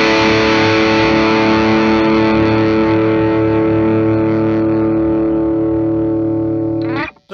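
A 1976 Gibson Les Paul Custom with a maple fretboard plays through heavy distortion, one loud sustained chord ringing on for about seven seconds before it is cut off abruptly at the end.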